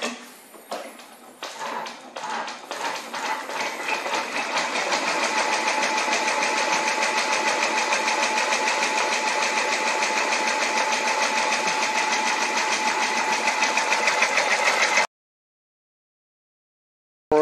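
A Brother embroidery machine stitches a cap, starting with a few separate clacks that speed up into a fast, steady mechanical rattle and hum, loud and close, before stopping abruptly into silence.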